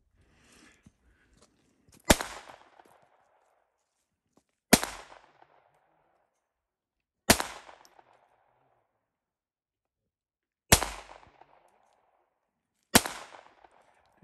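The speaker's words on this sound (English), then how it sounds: "her first shots with her new 22" Five sharp .22 pistol shots from a Browning Buck Mark Camper ring out one at a time, a couple of seconds apart. Each is a loud crack with a short decaying echo, and the gaps between them are quiet.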